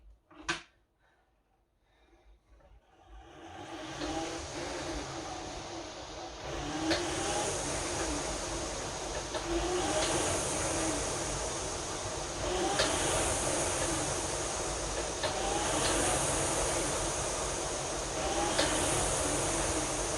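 Seat sliding back and forth on an Oartec DX dynamic rowing machine, a steady rolling whoosh with a soft knock roughly every three seconds as each stroke repeats, close and fairly loud, no voices.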